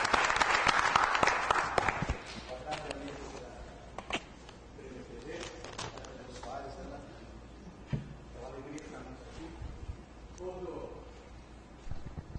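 A studio audience applauds briefly at a talk show, with a burst of clapping in the opening two seconds before speech takes over.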